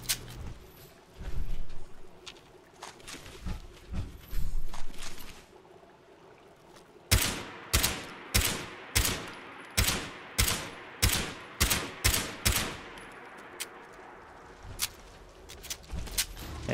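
A drum-magazine gun in the video game Fallout 76 fires a run of about a dozen evenly spaced, loud, sharp shots, preceded by scattered earlier shots and game noise.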